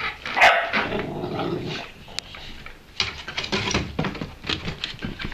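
A Cane Corso puppy gives sharp close barks mixed with low growls in an uneven series, with a person talking softly in between.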